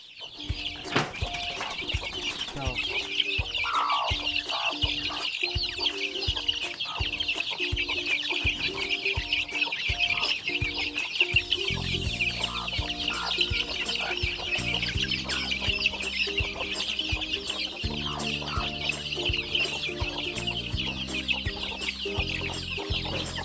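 Chickens cluck continuously at close range over a steady background hum, with a busy flock chattering throughout and no speech.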